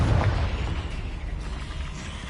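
Spell blasts in the Hogwarts Legacy video game, a loud, rumbling explosive boom that decays into a sustained roar, heavy in the low end and close.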